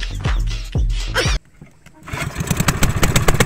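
A small boat's engine sputters into life as the boat sets off across the sea, a loud idling rumble cutting out briefly before a rapid, rising chug of firing strokes takes over.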